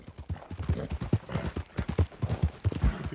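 Horse hooves clip-clop at a steady, close walking rhythm in Red Dead Redemption 2, loud and distinct with no talking over them.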